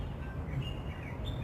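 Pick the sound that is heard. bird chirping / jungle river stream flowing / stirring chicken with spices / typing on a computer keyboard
bird chirping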